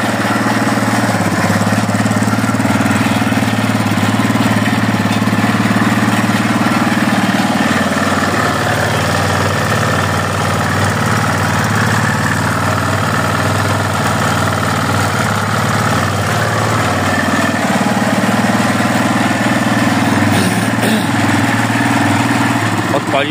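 An old 600cc motorcycle engine idles after its first start in five years, a steady, close, rumbling idle that runs throughout while someone talks over it.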